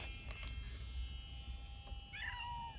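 A house cat lets out a short rising meow near the end, fairly close but soft, over a steady electric hum and faint background noise.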